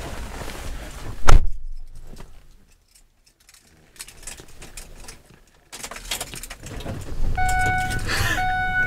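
A car being locked with a remote key fob, giving a sharp short chirp-like click near the start, followed by quiet and then faint car and outdoor background noise.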